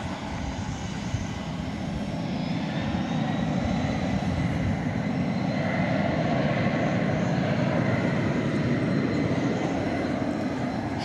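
An MD-11 airliner turns and powers up for takeoff on a runway at DFW at night, a loud, steady broadband jet roar that holds and swells slightly throughout, with no voices.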